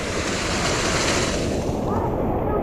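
Water rushing past on a rainy mountainside, a steady loud broadband wash that fills the whole clip, close to the microphone.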